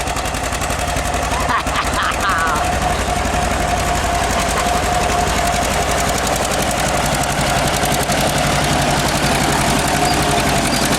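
A 1948 John Deere B tractor pulling a two-bottom plow gives a loud, steady, rapid popping engine chug throughout, with a constant drone and no pauses.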